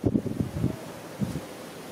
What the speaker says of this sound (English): the wind is picking up. It's a pretty windy day.